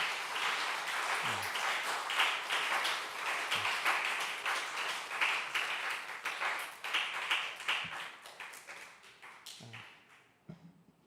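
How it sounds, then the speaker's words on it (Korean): Congregation applause for two confirmands at a Sunday youth worship service in a Korean church, moderate scattered clapping with a few low thumps, tapering off toward the end. "우리 박수 한번 쳐드릴까요?"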